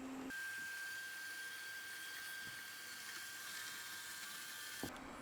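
A Midea M7 Pro robot mopping vacuum runs indoors with a steady broadband whirring hiss and a thin constant tonal whine, continuous and fairly close, with no talking.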